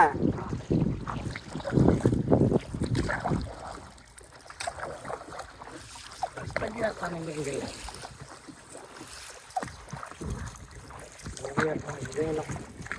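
A small boat moving on water near village homes under a stormy sky, with wind buffeting the microphone and people talking over the water sounds.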